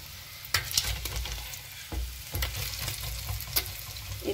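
Paneer frying in a pan makes a close, continuous sizzle, broken by a few sharp scrapes and clinks as it is stirred. No one speaks.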